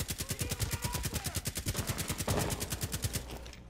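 Rapid automatic gunfire in the tactical shooter Rainbow Six Siege hammers out a steady, fast rhythm of evenly spaced shots, loud and close.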